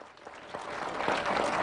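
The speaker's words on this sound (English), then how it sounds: "More claps." An audience at a Harambee Sacco annual general meeting claps steadily. The applause starts faint and distant and slowly swells louder over the short stretch.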